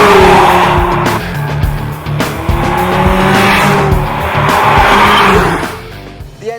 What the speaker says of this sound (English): let's put the A45's performance and handling to the test